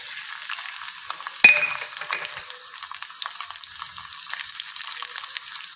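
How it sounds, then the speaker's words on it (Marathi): Chopped garlic with cumin frying in hot oil, a bright crackling sizzle that jumps with a sharp clatter as the garlic goes in, then a steady popping fizz, close and moderately loud. "ह्याचा कलर बदलेपर्यंत आपण फ्राय करून घेणार आहोत"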